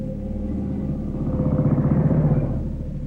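A 1950s motorcycle engine, just kick-started, idles with a steady low throbbing rumble that swells slightly and then settles, close and alone.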